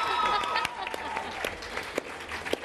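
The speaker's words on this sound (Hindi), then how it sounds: "चलो इसपे हम तालियां बजाते हैं" Studio audience applause on an Eid special TV talk show, scattered sharp claps that rise and fall while voices talk over and between them.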